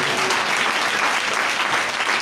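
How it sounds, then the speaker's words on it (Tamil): A church congregation claps hands at an evening thanksgiving festival service, a dense and loud wash of applause that holds steady the whole time, with no break or voice on top. "நல்ல கைதட்டுங்க"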